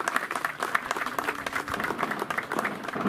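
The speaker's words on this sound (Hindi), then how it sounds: "तालियां बजती रहें" An audience claps steadily at a club event honouring guests, and the applause holds at an even, moderate level throughout.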